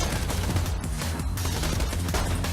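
Rapid bursts of gunfire from a weapon in the video game Borderlands 2, loud and dense, with shots running together in continuous clattering volleys and no speech.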